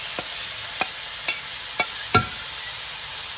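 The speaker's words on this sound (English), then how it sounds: "I'm just gonna stir fry this for 1 or 2 minutes like that" Chicken karahi with ginger, garlic and masala being stir-fried in a pan: a steady hiss of frying with five or six sharp scrapes and knocks of the spatula at irregular intervals, close and moderately loud, no talking.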